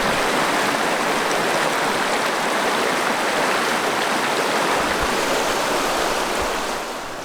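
Steady broadband rush of a river flowing in northeast Oregon, continuous and close, filling the whole stretch with even water noise and fading slightly at the end.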